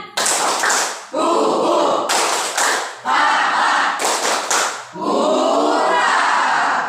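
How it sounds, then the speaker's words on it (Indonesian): A class of students performs the rhythmic Tepuk Indian clapping chant, loud bursts of clapping broken by short pauses into several phrases, with chanting voices mixed in. "Tepuk Indian."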